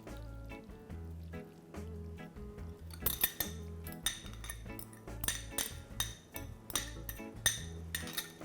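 Pasta salad is mixed with sauce in a bowl, with a run of close clinks and scrapes of utensils against the dish and wet squelchy stirring that grows busier toward the end.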